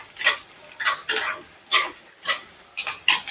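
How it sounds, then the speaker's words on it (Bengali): Sweet pumpkin being stirred in a cooking pan with onion and garlic: repeated scraping, stirring strokes in a steady rhythm, close and moderately loud with light sizzling between strokes. "এই যে মিষ্টি কুমড়া ঘাটিচ্ছি"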